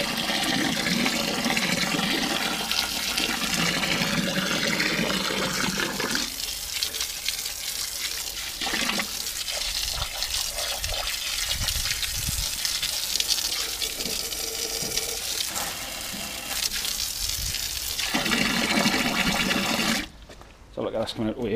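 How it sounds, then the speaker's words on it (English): An upstairs toilet flushes during work on a blocked drain, a loud steady gush of rushing water lasting most of the span, with people talking over it and a brief drop near the end. "Upstairs toilet, we need a flush."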